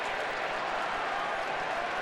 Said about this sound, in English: I think it was the Cub fans we just heard cheering, thinking that this is going to be overturned